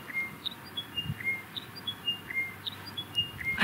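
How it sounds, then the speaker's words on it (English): Repeated short bird chirps ring out over a steady outdoor background hiss near Hamelin Pool, Australia, clear and fairly close, spaced a fraction of a second apart. "Hear this bird?"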